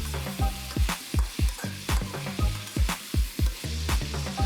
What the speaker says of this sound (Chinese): 加入八角、桂皮、蒜瓣，翻炒到蒜香味出来